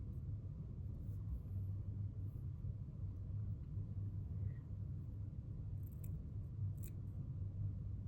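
A couple of quick snips of fly-tying scissors trimming material on a redfish fly, faint and close, over a steady low rumbling hum.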